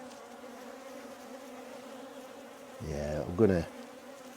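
Honey bees hum softly around an opened hive whose frames are light and stuck together with propolis, then a louder buzzing bee swoops close past for a moment while someone says a few words.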